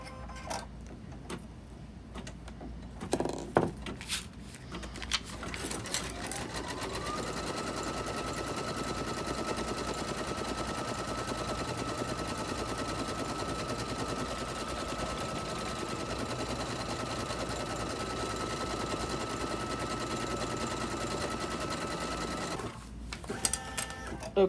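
A sewing machine stitches an embroidered wall hanging, running steadily and loudly for about fifteen seconds with a constant mechanical whir and rapid ticking, framed by brief handling clicks at the start and end.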